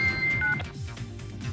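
A mobile phone chimes with a message notification: a couple of bright electronic tones in quick succession, fairly loud and close, followed by quieter room noise.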